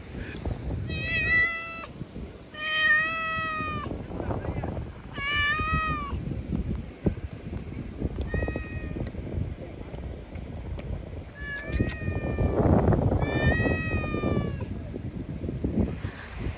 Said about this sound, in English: There's so many cats and kittens everywhere.